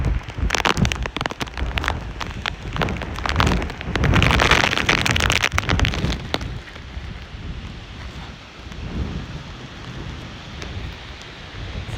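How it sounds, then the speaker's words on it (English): Heavy rain pounds down amid strong gusting wind during Hurricane Ian's landfall, a loud roaring wash that peaks early, then settles into a steady, softer downpour. "It's a downpour, guys."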